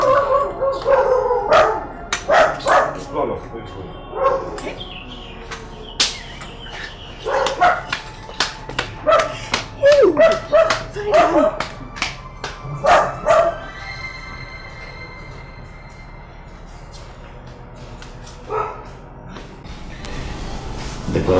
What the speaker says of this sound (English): Imagine even the dog in the palace is chasing you away.